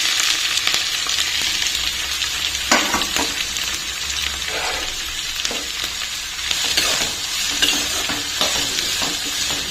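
Green chillies and onions frying in hot oil for an egg curry, a loud continuous sizzle with scraping stirs and clatters throughout, no voices.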